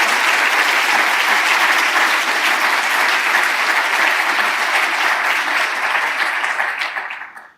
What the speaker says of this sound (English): I would like to ask you for applause for Peter.